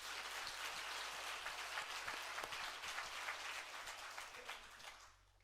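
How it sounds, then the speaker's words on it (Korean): A church congregation at a Christmas service claps in a soft, distant, sustained round of applause under a low steady hum, fading out at the end. "우리 하나님께 감사의 영광의 박수 한번 드립니다."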